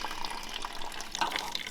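Water running down a drain, a faint, continuous trickling and gurgling with a few small splashes, heard close and alone over a short stretch.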